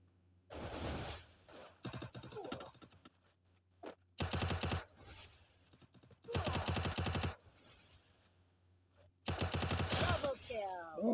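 Bursts of rapid automatic gunfire in a 2v2 custom video game match come in four or five loud clusters separated by quiet gaps, with faint voices in between.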